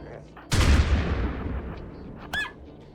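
A single heavy gunshot from RimWorld colonists firing at animals booms up close and trails off into a long decay, followed by a quieter second crack.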